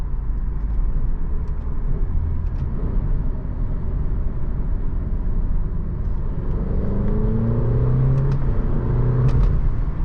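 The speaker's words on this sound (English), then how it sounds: "I'm gonna try manual mode here. So we're gonna downshift," An Alfa Romeo Giulia engine downshifts in manual mode, a loud steady low rumble from inside the car with rising revs audible toward the end.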